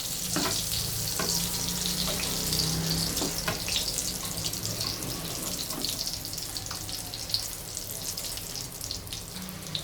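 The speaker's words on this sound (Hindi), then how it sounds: "जितनी देर में हमारे ये पेटी जो हैं वो फ्राई हो रहे हैं" Chicken burger patties fry in a grill pan with a continuous close hiss, a few sharp pops and clicks rising over the sizzle, and a water-like wash running steadily underneath.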